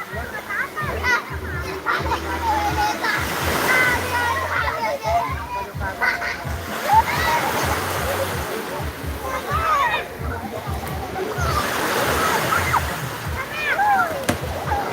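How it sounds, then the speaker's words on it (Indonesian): Ocean waves washing onto Ponnori beach in Bone Putih, Luwu, with steady water sloshing and splashing throughout, under children's voices and playful chatter close by. "Ombak."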